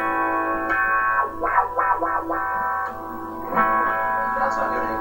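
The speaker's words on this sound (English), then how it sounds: "Brought on the distortion channel." Electric guitar with a distortion channel engaged through an effects pedal, a sustained overdriven tone with strummed, crunchy bursts that swell and fade across the clip.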